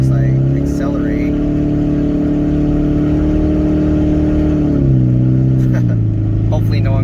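A 2003 Toyota Prius missing its catalytic converter accelerates, with a loud droning engine whose pitch rises and steps between gears, heard from inside the car, continuous and close.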